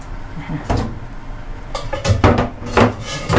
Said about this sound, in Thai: จะปิดฝาหมักไว้